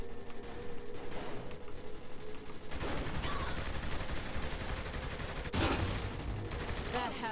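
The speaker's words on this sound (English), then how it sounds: "Dude, I'm getting shot at?" Enemy gunfire rattles nonstop in Saints Row: The Third, dense shots and automatic bursts packed together at moderate loudness, swelling sharply partway through, with hardly any talk over it.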